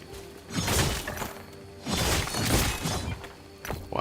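Wooden barrels shattering as they are chopped in the action RPG Last Epoch, two loud crashing bursts of splintering debris, close and unaccompanied by speech.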